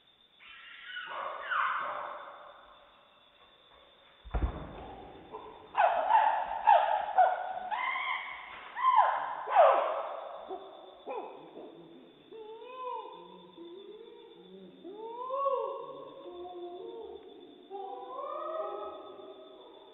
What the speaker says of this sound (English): you might have guessed that it's a sound of a chimpanzee and sounds like a happy one